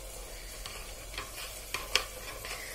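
Spoon stirring red chilli, coriander powder, salt and black pepper together in a bowl while making raita, with soft scraping strokes and a couple of sharper clinks, close and fairly quiet.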